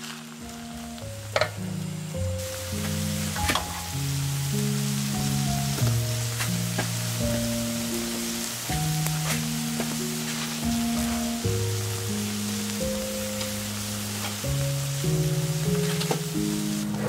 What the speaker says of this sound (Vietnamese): Bật bếp cho dầu nóng, rồi mình cho mì vào.